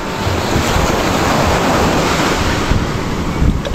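Waves wash steadily onto the shore with constant wind noise buffeting the microphone, a continuous rushing surf with no voices.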